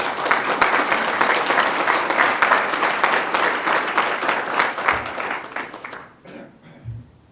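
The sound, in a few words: audience applause at conference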